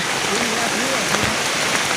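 Rain pours down near a waterfall at Ban Sawang, making an even, dense hiss that fills the background while a voice calls out over it.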